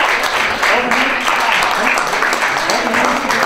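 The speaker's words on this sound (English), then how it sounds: "warm applause." Warm applause from a press-conference crowd in Berlin, dense and steady throughout at close range, with a few voices faintly mixed in.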